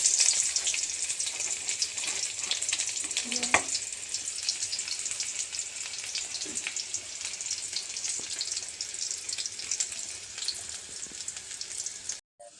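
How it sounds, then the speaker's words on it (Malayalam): Small chopped onions sizzle loudly in hot oil in a pan after mustard seeds have popped, a steady close crackle with a few stirring scrapes and soft knocks, and no voices. "കടുവെല്ലാം പൊട്ടിക്കഴിഞ്ഞ് അതിനകത്തോട്ട് ഉള്ളി ഇടാം."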